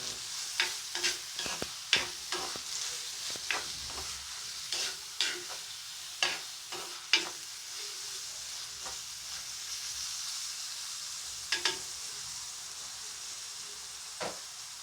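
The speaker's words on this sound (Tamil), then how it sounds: "பூண்டு, கருவேப்பிலை எல்லாம் வதங்கி கொண்டு இருக்குது." Onion, green chilli, garlic and curry leaves sautéing in a pan for squid curry, a soft, continuous sizzle broken by repeated sharp spatula scrapes and knocks as they are stirred, close up and without talk.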